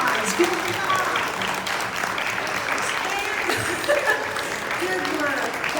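Room of people applauding the parade band at a Mardi Gras gathering, sustained close clapping mixed with cheers and chatter.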